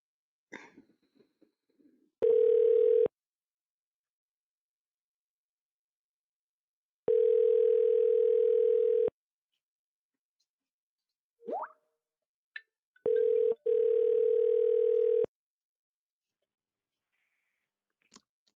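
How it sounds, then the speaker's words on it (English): Outgoing call to a cell phone with a steady electronic ringback tone heard in three long bursts separated by silence, alongside a few faint clicks and handling sounds, with no talk. "I'm going to call my cell phone here"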